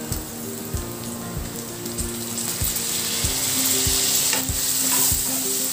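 Onion and tomato frying with salt in a pan, sizzling steadily throughout while a spoon stirs and scrapes in regular strokes, close and fairly loud with no talking.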